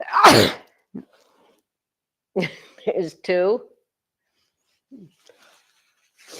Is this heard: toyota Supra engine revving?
no